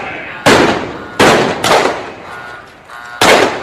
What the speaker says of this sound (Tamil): The Garuds have entered the building and heavy firing is on from both the sides.